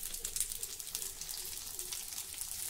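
Green chilies roasting in a pan give off a steady, faint crackling sizzle with soft popping, continuous and alone throughout.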